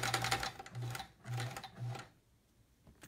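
A sewing machine with a needle not fully seated runs in four short bursts during a live quilt-along sewing session, close and fairly loud with a steady buzzing whir, then stops into near silence.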